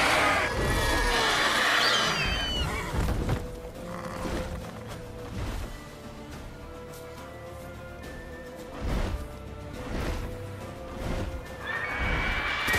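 A horse whinnies loudly in The Witcher 3, a long shrill neigh up front followed by snorts and further calls amid combat sounds and game music.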